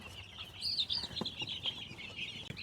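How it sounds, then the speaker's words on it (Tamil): A brood of two-week-old black karunkozhi chicks on a farm in Jaffna peeps in a continuous high-pitched chorus, close and fairly loud, with a few soft knocks underneath and no speech. "இது கருங்கோழி குஞ்சு."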